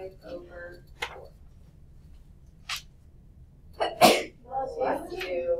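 A single sharp sneeze bursts out in a quiet classroom during a math lesson, loud and close, followed by a brief murmur of voices.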